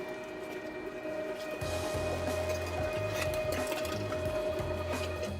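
A meat grinder runs steadily through a fine grind of a pork mixture for a sausage built from a bacon, egg and cheese breakfast sandwich, the motor whirring with a low pulsing churn that grows heavier as meat feeds in, no talking.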